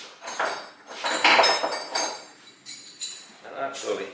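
A metal socket from a mechanic's tool set clinks and rattles in separate metallic knocks and clatters while working on the intake manifold of a 1990s Toyota Corolla, close by, with speech-like sounds in between.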